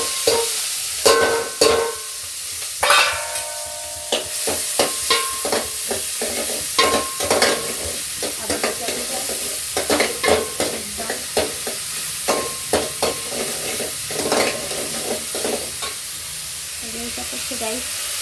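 Onion, chilli and spices frying in a pan while being stirred, a loud continuous sizzle broken by repeated scraping strokes of a spoon in an uneven rhythm, close up with no talking.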